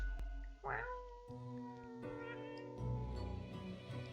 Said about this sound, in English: Lady Poddington utters a bewildered meow